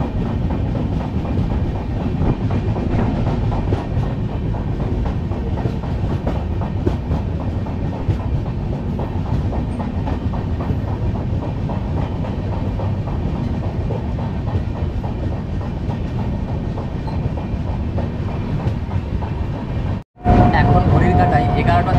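Dhauli Express passenger train running on rails: a steady, loud rumble and rattle of carriages continues throughout, with faint voices underneath, before a brief dropout and a closer hum near the end.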